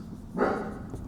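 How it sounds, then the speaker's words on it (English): A new puppy lets out a single short bark, close and fairly loud against a quiet indoor background. "that noise you hear is our new puppy"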